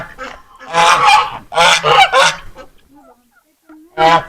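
A goose honks loudly and close by in a run of harsh nasal calls, a short one and then a quick cluster of three, followed by a quiet pause with faint chirps and one more loud honk at the end.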